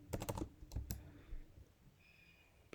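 Quick bursts of keystrokes on a computer keyboard while writing Python code, a rapid cluster of clicks, then two more taps, then a pause, close and fairly quiet, no talking.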